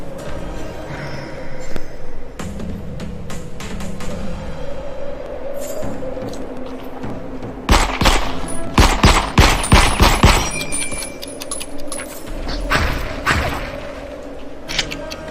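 A Luger pistol fires in the VR shooter The Light Brigade in loud close bursts of rapid cracks, clustered heavily in the middle, over a continuous game background.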